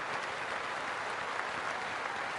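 Steady, dense applause from a large audience, evenly sustained and moderately distant with no individual claps standing out, continuing throughout without voices on top.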